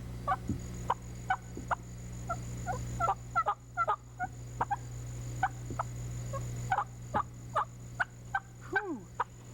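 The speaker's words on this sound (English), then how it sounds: "Low, soft, guttural yelp, commonly used at early morning light while turkey is still on roost." Wild turkey tree yelps from a bird still on its roost at early morning light, a series of low, soft, guttural yelps in short spaced bursts, moderately distant over a steady low background hum.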